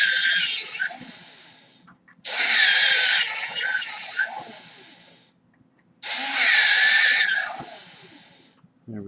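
A pencil is sharpened in a studio drawing session, giving two long, loud grinding bursts separated by quieter pauses with faint handling sounds.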